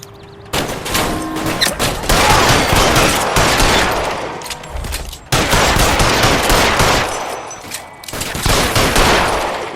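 Rapid bursts of gunfire in the L.A. Noire crime game, loud and dense with sustained automatic volleys broken by two short pauses.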